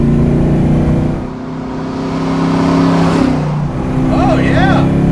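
Modified 1965 Ford Mustang by Detroit Speed on wide tires, engine droning loud and steady from inside the car as it accelerates, rising in pitch with a shift partway through; talk is heard over it.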